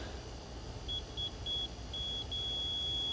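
A multimeter's continuity tester on an electric water heater emits a high, thin beep, first in short broken chirps and then as a sustained tone, over a low rumbling background with no talking.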